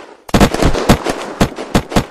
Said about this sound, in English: Oh, she's shooting at me!